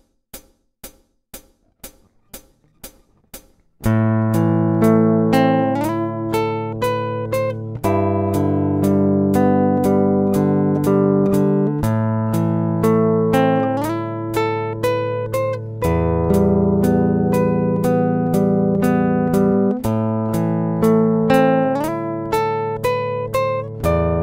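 Fingerstyle acoustic guitar plays a slow, sad love-song melody, a few sparse plucked notes opening before a full, continuous picked passage of melody over bass notes carries on steadily, close and clear with no talking.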